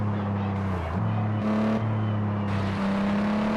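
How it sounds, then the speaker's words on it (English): A Nissan 350Z engine drones steadily with a throaty aftermarket exhaust note, pitch stepping up and down through gear changes, racing in a Forza video game. "350Z with the ray exhaust sounds good"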